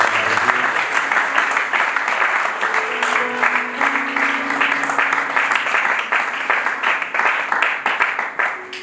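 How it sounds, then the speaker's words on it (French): A church congregation applauding loudly, dense sustained clapping from a large crowd with cheering voices mixed in, close and continuous throughout. "Est-ce qu'on peut acclamer très fort pour la"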